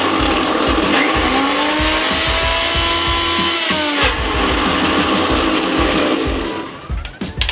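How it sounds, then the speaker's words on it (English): A high-powered blender churns a thick smoothie bowl mix, a loud continuous motor whine with shifting pitch and rattling, close up, ending with a few uneven bumps as it slows. "The problem with this blender is that it's very noisy, and I think that's expected since it's a very high-powered one."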